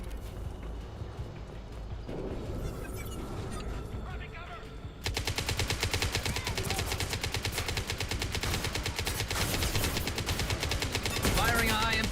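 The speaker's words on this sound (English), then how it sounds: "Firing a high impact shot. Weapons ready. Light him up. One down." Rapid automatic gunfire from a firefight in the video game Mass Effect 2, loud dense bursts of shots kicking in after a quieter stretch and rattling steadily to the end over a busy game soundscape.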